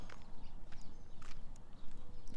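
Hooves of wild horses clip-clopping in an irregular run of soft, close knocks over a steady outdoor rumble on a desert walking trail in Pahrump, Nevada, with no one speaking.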